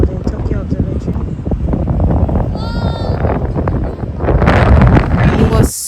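Strong, gusting wind buffets the microphone at the foot of Tokyo Skytree, a loud, continuous rumble that surges and swells throughout, with faint voices and street sounds mixed underneath.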